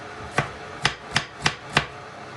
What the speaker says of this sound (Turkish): ben biberlerimi doğruyorum